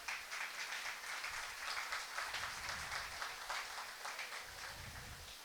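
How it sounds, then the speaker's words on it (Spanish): Continuous applause from a congregation at a Sunday church service, a dense steady patter of many hands clapping at moderate distance. "Denle un aplauso al Señor por eso."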